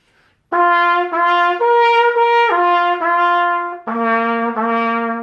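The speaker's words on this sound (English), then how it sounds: "So when you plug your mouthpiece into your trumpet, it'll sound like this." A trumpet plays a sequence of sustained notes with open valves, stepping between a few pitches, loud and close with no talking.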